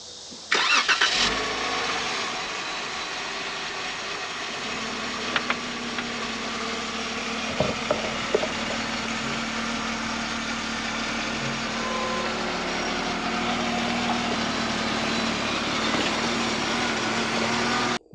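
A Jeep engine runs steadily while driving off-road trails through woods and grassy fields at a Pennsylvania resort, starting with a few sharp knocks and bumps, then settling into a continuous loud rumble with occasional jolts, no talking.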